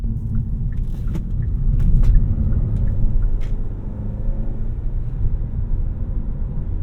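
2023 Kia K5 GT-Line sedan driving, heard from inside the cabin as a steady low road and engine rumble with a few faint clicks and no talking.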